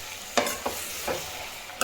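Cucumber and tomato curry with onion, green chili and curry leaves being stirred in a frying pan, a low sizzle broken by four quick scraping strokes of a spoon.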